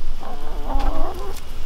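Laying hens of mixed breeds, red, black and white, clucking in a farmyard flock, a steady run of murmuring, overlapping clucks close by with low background rumble.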